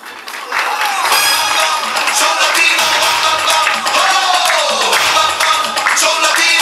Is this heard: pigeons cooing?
no